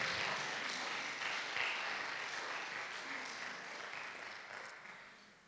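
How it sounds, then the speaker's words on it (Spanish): A church congregation applauds, a faint, steady wash of clapping that carries on evenly for several seconds and tapers slightly at the end. "Dale un aplauso al Señor"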